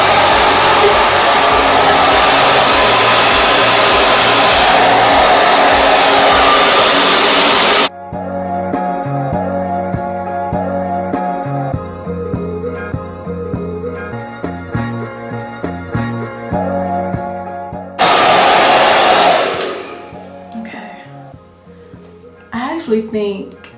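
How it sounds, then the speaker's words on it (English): A 2000-watt BaByliss Pro blow dryer roars loudly and close while drying hair, cutting off for a stretch of talking and then blasting again briefly. "you just pull your hair and blow dry it"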